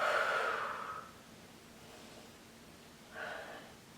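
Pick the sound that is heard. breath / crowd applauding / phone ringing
breath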